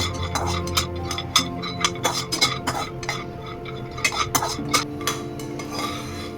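Almonds dry-roasting in a pan over medium heat are stirred with a utensil, giving close, irregular scraping and light clinking taps against the metal, fairly soft overall.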